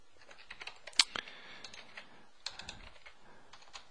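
Keys clatter on a computer keyboard while code is typed into the X++ editor of Microsoft Dynamics AX 2011, in quick irregular clicks with a few sharper taps, close and fairly quiet.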